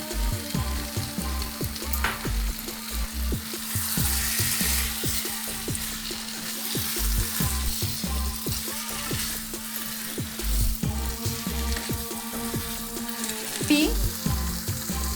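Hilsa fish pieces added to a pan of cooking taro greens, giving a loud, continuous close sizzle with rhythmic stirring and scraping throughout and no speech.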